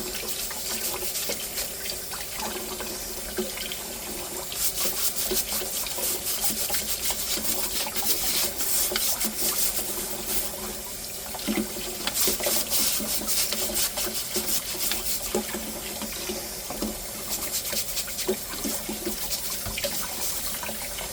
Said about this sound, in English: I got to put a little extra cleanup muscle into getting this dried stuff off of the strainer